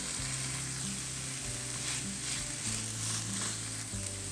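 Chopped vegetables for a chicken sandwich fry steadily in a pan, a continuous soft sizzle with faint stirring scrapes, close and alone without any talk.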